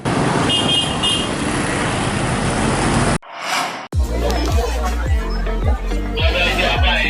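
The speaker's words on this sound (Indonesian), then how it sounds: "Arus lalu lintas pada malam hari didominasi kendaraan mobil pemudik dan bus dari berbagai kota di Sumatera tujuan Jawa." Night traffic of holiday homecoming cars and buses on a Sumatra-to-Java route in North Lampung roars steadily, broken by a brief quieter gap before loud rushing vehicles pass close by again.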